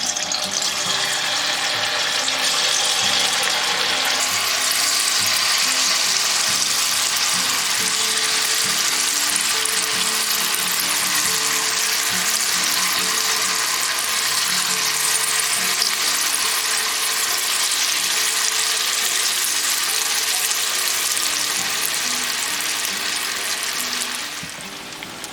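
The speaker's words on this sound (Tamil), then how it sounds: "இதில் நம்ம இப்போ காலிஃப்ளவர்லாம் போட்டு பொரிச்சு எடுத்துடலாம்." Cauliflower pieces deep frying in hot oil at medium heat for crispy restaurant-style Gobi 65, a continuous loud hissing bubble that holds steady throughout and fades at the end.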